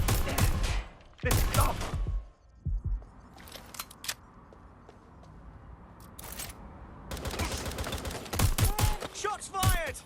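Bursts of gunfire in the video game Watch Dogs: Legion, several loud sharp volleys cracking out in clusters at the start and again near the end, with a voice shouting briefly amid the shooting.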